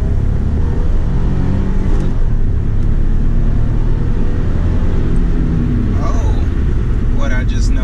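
A Nissan 300ZX pulling hard down a straightaway, its engine and road rumble loud and steady throughout, with a voice speaking over the drive.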